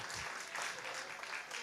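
Congregation at a church service applauding together, a steady wash of clapping from many hands filling the room, fairly close and continuous throughout.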